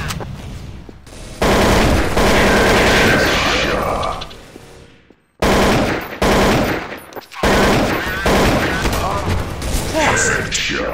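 Gunfire in Counter-Strike: Source on the de_cpl_strike map, with loud rapid automatic bursts separated by brief silences and heavy, dense firing.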